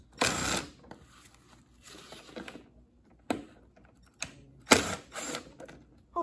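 Ratchet working loose the air box screws on a dirt bike in a shop: a few separate bursts of quick clicking mechanism, close and fairly loud, with quiet gaps between them.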